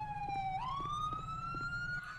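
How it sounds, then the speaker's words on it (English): A police car siren in GTA 5 wails close and loud in a steady rising tone, sounding continuously for a couple of seconds with no talking over it. "Hey, Grid, can you get a siren check?"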